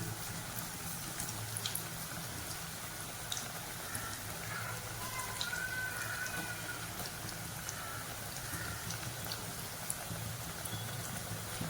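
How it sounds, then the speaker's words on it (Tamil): Small pakoda fritters deep-fry in hot oil with a steady, dense bubbling and crackling hiss, even and continuous throughout at moderate level, with no voice over it. "இப்போ இது எல்லாத்தையும் போட்டாச்சு இப்போ இது வந்து நல்லா பொறிச்சு எடுத்துடணும்"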